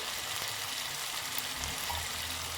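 Grated raw mango frying in a pan, giving a steady, close, continuous sizzle and crackle with no one talking.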